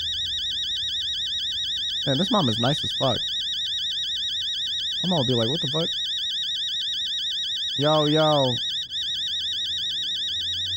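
Continuous warbling electronic alarm clock ringing by a bedside in the horror game Fears to Fathom, loud and steady throughout while someone talks over it in short bursts.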